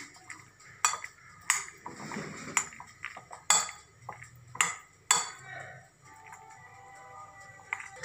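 Tuna, corn and mayonnaise salad being mixed in a bowl, a spoon clinking sharply against the dish in a run of distinct knocks, then quieter wet stirring and scraping; no talk.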